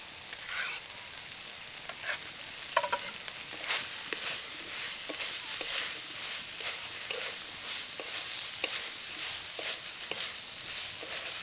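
Fried figs and potatoes are stirred into a spice mix with grated coconut in a pan, giving a steady bright sizzle with repeated scraping strokes of the spatula ticking through it, close and continuous.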